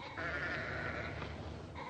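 A sheep bleating, one wavering drawn-out bleat heard close and fairly loud across most of the moment, with no talk over it.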